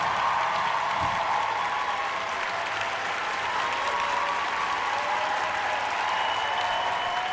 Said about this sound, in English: Ladies and gentlemen, give it up for Sergeant Bradley of the 4th Battalion